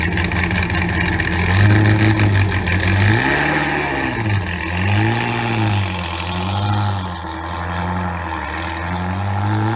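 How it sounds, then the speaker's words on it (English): A modified flat-plane Corvette engine revs loud and close, rising and falling in several sweeping pulls with a rough mechanical edge, no voices over it. "It is a Flat Plane Corvette"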